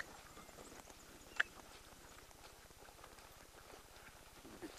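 Horse hooves clip-clop on a track during a warm-up, a steady rhythmic beat of fairly soft, moderately distant footfalls with one sharp louder knock partway through.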